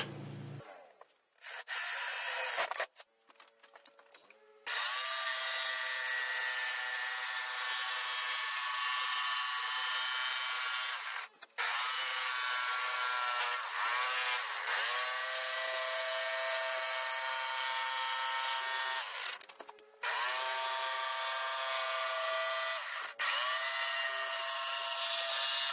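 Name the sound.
Forstner bit drilling and jigsaw cutting circle in wood board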